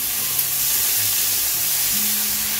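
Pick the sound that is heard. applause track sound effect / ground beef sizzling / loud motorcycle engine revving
ground beef sizzling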